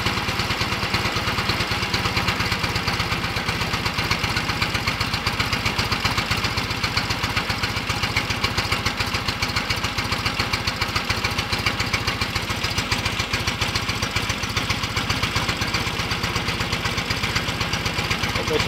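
Fiat 500 engine idling while the ignition timing is set by turning the distributor, a steady close mechanical chatter with a rapid even pulse and a slight rise and fall in speed, no talk.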